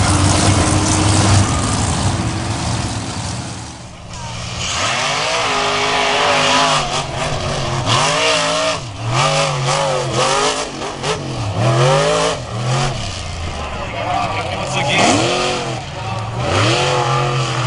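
The Snakebite monster truck, number 15 with a 72 cubic inch, 1,400 horsepower engine, roaring at a beach event in Wildwood, NJ, with loud sustained revving that rises and falls in repeated surges, close and continuous.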